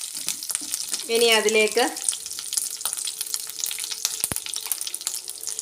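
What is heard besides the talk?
stirring and frying sardine pickle masala in a pan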